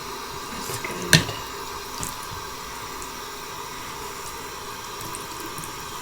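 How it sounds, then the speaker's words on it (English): Tap water runs steadily into a sink while a wig is washed, a constant close hiss with one brief knock near the start. "I'll turn the water up just a little."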